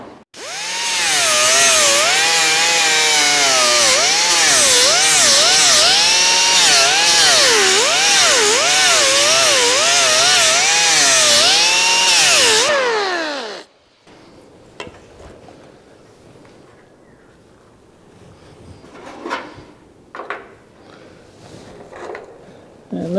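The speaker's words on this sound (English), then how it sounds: "looks like I can grind a little bit out of the back of it" Angle grinder cutting into steel on a 1970 Holden HG ute during roof rust repair, a loud, sustained whine that wavers in pitch for about thirteen seconds, then stops abruptly, leaving quiet workshop clatter and faint handling noises.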